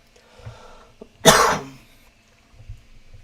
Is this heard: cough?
yes